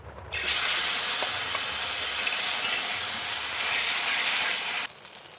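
Spice paste hitting hot oil in a pan used for frying fish, a sudden loud hiss and sizzle that holds steady for several seconds, then cuts back to a quieter sizzle.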